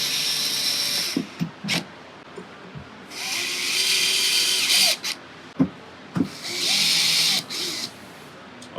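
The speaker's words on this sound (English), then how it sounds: "I'm going to put this screw in on this side" Power drill driving a screw into a bracket on a Jasper gaming table, with three whining bursts of several seconds each broken by clicks and handling knocks, close and loud with no talking.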